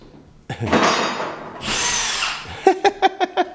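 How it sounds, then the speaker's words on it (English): A power drill whirs in short bursts, then spins steadily with a higher whine, followed by a rapid series of brief trigger pulses up close, run in reverse at a sawmill. "Turn that drill backwards."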